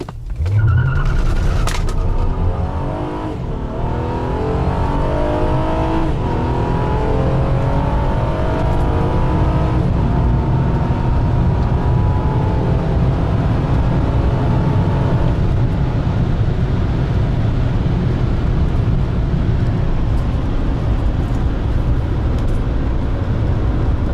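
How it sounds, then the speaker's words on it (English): A Honda Accord V6 with a Ktuner Stage 1 tune and RV6 downpipe accelerating hard from a standstill, a loud engine note rising in pitch through repeated gear changes and then holding at a steady high drone. "Honda Accord V6, Ktuner Stage 1, RV6 downpipe, 0 to 60 and quarter mile."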